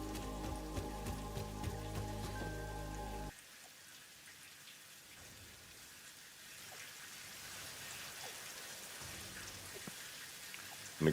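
Rain falls in the video game Satisfactory as a steady, soft hiss of patter. Music plays briefly at the start and then cuts off, leaving the rain alone.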